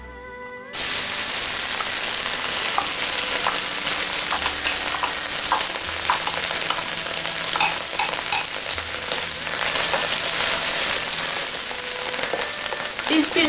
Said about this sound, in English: We're going to cook the mushroom first for about a minute.